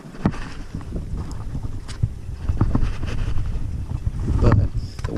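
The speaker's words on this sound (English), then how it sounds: "But the wind was really bad this morning. It's still really bad." Strong wind buffets a small fishing boat off Sanibel Island, a constant loud roar of gusts and microphone wind noise over sloshing water and hull sounds, rising and falling without any talk.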